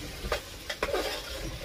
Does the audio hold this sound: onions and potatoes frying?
yes